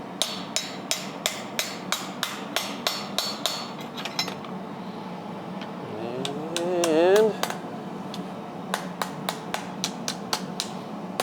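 Steady, evenly spaced hammer blows ring on a carbon steel skillet being cold-forged and straightened, with a brief scraping squeal mid-way and a metallic clang on each strike.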